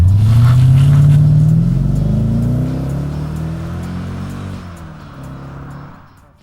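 A 2002 Mercedes-Benz E55 AMG with its naturally aspirated 5.4-liter V8 revs loudly and close, its deep note climbing as it pulls away, then easing off and fading toward the end.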